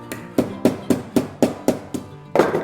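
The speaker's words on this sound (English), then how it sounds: "I can then use my hammer" A hammer folds a metal shim over on a handmade tin whistle, striking it in a steady run of about seven or eight sharp, close metallic taps with a short ring after each.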